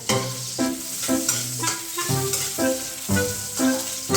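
Garlic sizzling in a frying pan for an Ilocano papaitan, a steady crackling hiss with repeated stirring scrapes, loud and close with no talking.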